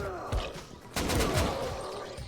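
A rifle in Dying Light fires in quick bursts of several rapid shots, loud and close, with a short pause before a second volley.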